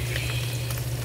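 Ground pork browns in a hot pan with a dense, steady sizzle and bubbling that carries over a low constant hum. The sound stays even and unbroken throughout.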